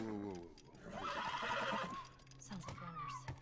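A horse in The Last of Us video game neighs loudly, a long rising and falling whinny, followed by a shorter second call with faint hoof sounds in the background.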